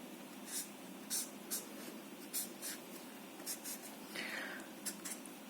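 Marker or chalk writing on a board in a classroom lecture on transmission lines, a series of short, scratchy strokes in uneven bursts over a steady room hum, fairly close.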